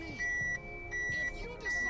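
A Mitsubishi Fuso Canter truck's reverse-gear buzzer sounds in short, regular electronic beeps, three or four pulses, fairly faint with a voice behind it.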